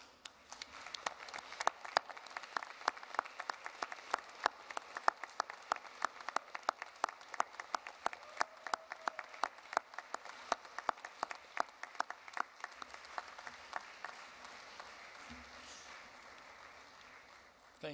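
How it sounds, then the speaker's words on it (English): Graduation ceremony audience gives sustained applause, many hands clapping in dense overlapping bursts for about eighteen seconds at a moderate distance, tapering off near the end. "giving them a round of applause"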